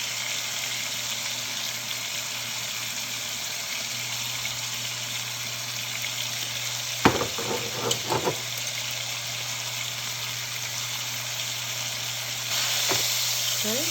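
Beef pot roast searing in a hot pan gives a steady loud sizzle throughout, with a few brief clattering handling sounds near the middle.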